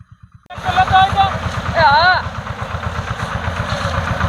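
A small tractor engine chugs at idle with a steady, thudding low pulse that runs throughout. Several people talk over it from close by.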